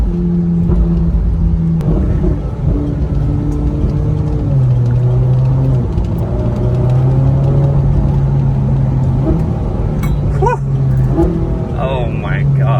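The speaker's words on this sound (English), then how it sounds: "Those are some of the meanest downshifts I've ever heard on a stock exhaust." A Ferrari 458 Spider on its stock exhaust roars loudly up close, its engine note dropping and climbing through aggressive downshifts with crackling blips, while voices talk over it.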